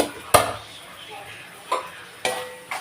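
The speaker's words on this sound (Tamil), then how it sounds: "இப்போ மூடியை திறந்து பார்க்கலாம்." A lid comes off a pot of carrot and peas curry with a sharp metallic clank, followed by two softer clinks spaced apart, close by, while a voice talks faintly underneath.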